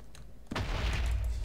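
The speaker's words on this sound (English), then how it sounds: "He's shooting grenades at me." A demoman fires grenades in a video game, a sudden loud boom that turns into a sustained, rumbling burst of explosive noise and continues steadily to the end.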